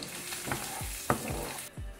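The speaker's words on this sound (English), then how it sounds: "That's the kind of sound that you are after. Sizzling on the oil." Steady sizzling of food frying in hot oil for spaghetti alla Norma, with a few soft clinks and stirring noises over the constant crackle.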